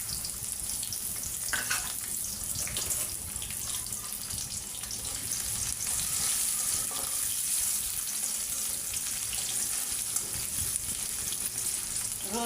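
Onion, garlic and green chillies fry in oil in a wok, a steady crackling sizzle at moderate volume with occasional stirring scrapes and no talk.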